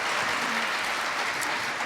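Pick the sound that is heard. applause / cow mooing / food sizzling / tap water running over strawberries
applause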